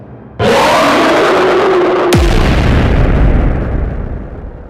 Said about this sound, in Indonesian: air danau tiba-tiba meledak, menciptakan gelombang yang besar